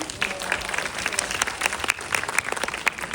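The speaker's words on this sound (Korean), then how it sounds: "그럼 게스트분들 왼쪽으로 나가시는 동안 박수로 보내드릴까요?" A cinema audience applauds as guests leave after a film screening, dense continuous clapping from many hands at moderate level, with faint crowd murmur.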